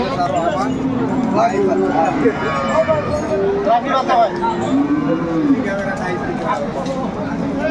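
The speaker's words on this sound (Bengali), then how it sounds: "গাভী বাছুর।" A cow with her calf moos repeatedly at the Aftabganj cattle market in Dinajpur. Several drawn-out lowing calls rise over background crowd chatter, with people talking nearby.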